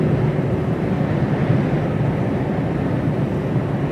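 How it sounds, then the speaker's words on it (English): Broad, dense rotor and engine rumble of a Chinook helicopter passing overhead, loud and continuous throughout with no talking. "Yeah, I think it's a Chinook."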